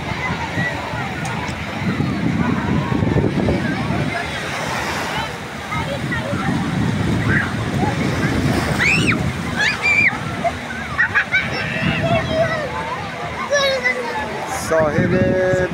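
Sea waves wash onto the beach at Babolsar on the Caspian coast, a continuous broad surf rush with swelling and receding surges, and voices and family chatter mixed in throughout.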